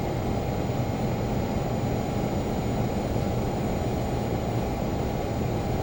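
A Learjet taxis in Microsoft Flight Simulator, a steady loud jet engine whine and broadband rumble holding constant throughout with no talking.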